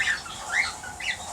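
Parrots in a large aviary in Tahiti give a few harsh squawks and chirps, fairly close and moderately loud, over light background noise with no talking.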